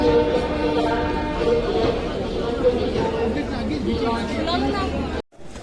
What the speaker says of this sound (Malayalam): വണ്ടി ബനാറസ് റെയിൽവേ സ്റ്റേഷനിലെത്തി